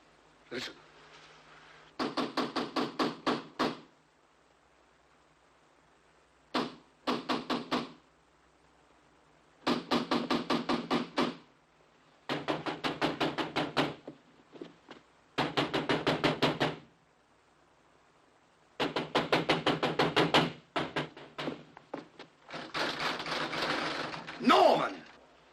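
Bursts of sharp knocking on a door, several rapid raps per burst, repeated in clusters with pauses between, fairly close and clear over a quiet room with a faint hum.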